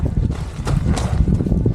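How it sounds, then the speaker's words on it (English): Gusty wind buffets the microphone in a steady low roar, with rushing bursts swelling and fading outdoors on a cold, rainy trail in Cerro Castillo National Park. "It's windy, it's raining, it's cold."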